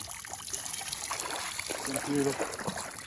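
Water is poured and trickles outdoors by Wallaga Lake, a light splashing dribble under people talking close by.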